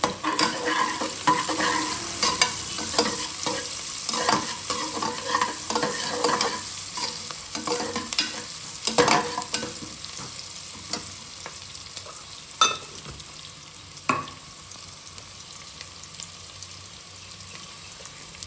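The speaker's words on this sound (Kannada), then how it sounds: "ಈಗ ಈರುಳ್ಳಿ ಬೇಯ್ತಾ ಇದೆ." Sliced onions and turmeric frying in hot oil as tempering for village-style mutton biryani, a continuous crackling sizzle with repeated scraping stir strokes, close and fairly loud, with a few sharper clinks toward the end.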